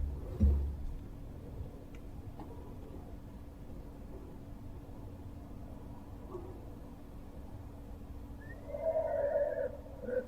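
Faint horse-like whinny from a barn at night, a brief wavering call near the end over a quiet hiss of background noise, with a soft thump at the start.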